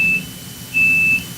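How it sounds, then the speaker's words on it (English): Steady electronic beeping from a radio station's off-air alarm, two sustained high tones with a short gap between them, heard clearly over a low background hum. "Do you think people can actually hear the beeping?"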